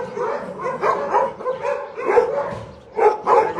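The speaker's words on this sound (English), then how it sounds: "standing up barking at the other dogs" Several shelter dogs stand and bark at other dogs, firing loud, close, repeated barks in ragged bursts with brief gaps between volleys.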